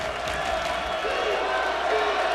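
Crowd at an NC State men's basketball game against Colgate, a steady wash of arena murmur and cheering at moderate distance, with a commentator speaking over it.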